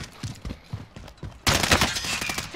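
Gunfire in the video game Warzone: a few spaced shots at first, then a dense burst of rapid automatic fire that is loud and close for the remaining second.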